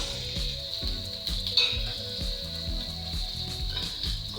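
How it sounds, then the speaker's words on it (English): Sausage fries in a pot with a steady close sizzle and crackle, punctuated by soft scrapes and stirring knocks at a fairly regular pace; no one speaks. "Fry my sausage to make the sausage tasty"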